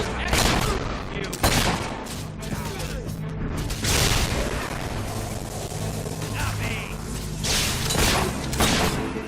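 Dense gunfire in the fantasy action game Fable 3, loud volleys of overlapping shots and booms with mechanical clatter, continuing throughout beneath shouted game dialogue.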